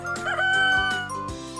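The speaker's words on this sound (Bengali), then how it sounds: "কক ডাকে খুব ভোরে।" A rooster crows close and loud, one full drawn-out cock-a-doodle-doo with rising and falling harmonic notes, heard clearly on its own.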